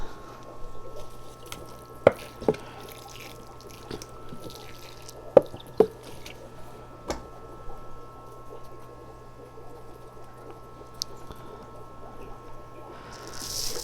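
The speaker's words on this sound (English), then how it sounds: "As I water it again, the soil will all soak in." Scattered drips and soft plops of water trickling through soil in a potted olive tree, with a few sharper drops standing out against a quiet background.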